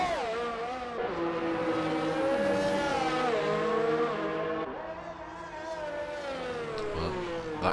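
Formula 1 car in a racing video game screaming through the Monaco chicane at high speed, a loud sustained high-revving engine whine that rises and falls with gear changes, with commentators talking over it.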